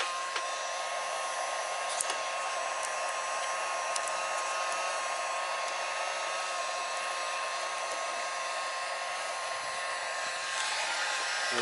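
Heat gun warming vinyl car wrap material, a steady, moderately loud blowing whoosh with a constant fan hum running unbroken throughout.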